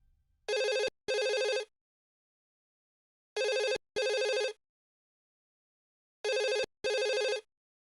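Telephone rings in a Hindi TV drama scene: three clean double-burst rings spaced evenly, loud and close, with silence between them and no voices.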